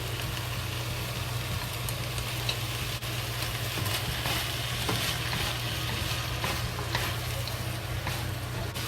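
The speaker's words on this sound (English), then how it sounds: "Now we add the scrambled egg into it." Pork and scrambled egg stir-fry in a wok over a steady, loud sizzle, with a low hum from the stove running underneath and scattered scraping strokes throughout.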